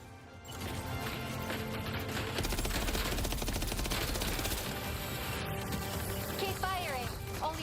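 Video game gunfire rattles in a dense, continuous stream of rapid shots over a loud, busy background of game effects, with speech mixed in throughout.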